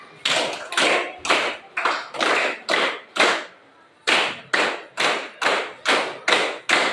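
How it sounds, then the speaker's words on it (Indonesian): A school class performs the 3-3-7 rhythmic clapping ice breaker, crisp close unison claps in two patterned groups separated by a short pause, loud and clear with no talking. "sekali lagi kita pakai ice breaking tepuk 3 3 7 3 ya."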